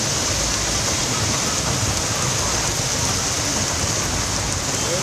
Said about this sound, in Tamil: பலத்த காற்று, இடி மின்னலுடன் கொட்டி தீர்த்த கனமழை